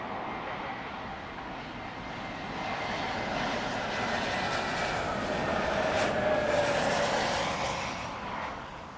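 A fixed-wing airliner arriving at London Heathrow Airport, a steady broadband engine roar that swells slightly in the middle and stays fairly loud throughout, with no talking.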